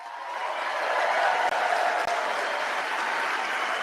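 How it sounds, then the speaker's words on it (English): An audience at a National Guard Association event applauds, the clapping swelling quickly and holding as a dense, steady roar of many hands. "That is the National Guard Association applauding that statement by Tulsi Gabbard."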